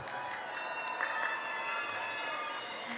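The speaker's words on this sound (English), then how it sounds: "Give yourselves a round of applause" A graduating class applauds at a graduation ceremony, a dense, continuous wash of clapping from a crowd that holds steady throughout.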